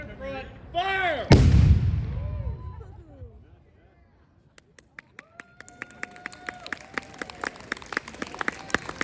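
A ceremonial cannon fires once at a Gettysburg Address anniversary commemoration, a loud close boom that rolls off into a long echo. Voices and scattered clapping come before it, and applause-like crackle rises afterward.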